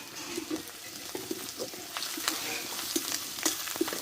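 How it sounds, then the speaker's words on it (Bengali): Onion and spices sizzle steadily in a pan with salt and turmeric for a cauliflower dish, as a spatula stirs and scrapes in repeated light strokes over the continuous frying hiss. "দেখো সবগুলো একসঙ্গে ভালোভাবে আমি কষে নিয়েছি"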